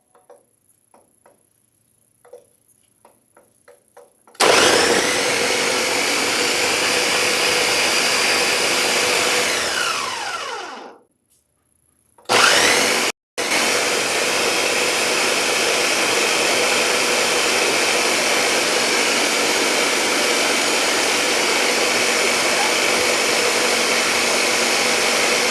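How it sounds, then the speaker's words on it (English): A blender whirs through a banana smoothie in one loud, steady run after a few faint clicks, cuts out briefly, then starts again and runs continuously. "now what you guys want to do is blend first"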